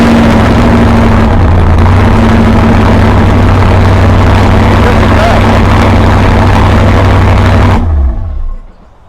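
A Chevrolet Corvette C8 Z06 engine rumbles loud and close, a deep steady idle with a brief shift in pitch partway through, then cuts off abruptly near the end.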